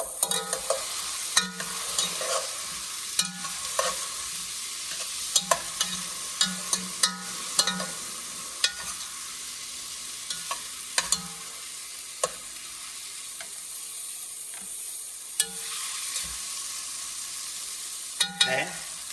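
Venison with smoked paprika and garlic stirred in a pan, a continuous sizzle broken by frequent sharp scrapes and clacks of the utensil, close and with no voices.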